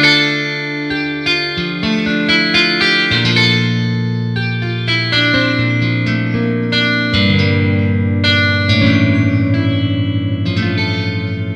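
A sampled guitar patch from the Westwood Instruments Novella library, played on a keyboard with sustain, layers strummed and plucked chords that ring and overlap in a lush, continuous wash with no talking.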